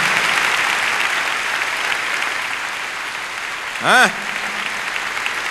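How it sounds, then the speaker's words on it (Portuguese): A church congregation claps in continuous, moderately loud applause, with a single short spoken exclamation near the end cutting above the clapping. "Vocês podem dar um aplauso aí ao Senhor?"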